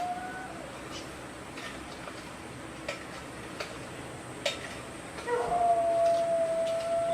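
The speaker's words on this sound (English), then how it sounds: "Again, apologies for that dog." A dog howls in the background of a home kitchen during baking, a thin sustained wail rising near the end over faint room noise and scattered small ticks and knocks.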